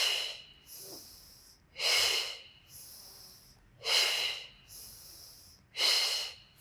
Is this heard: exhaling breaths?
yes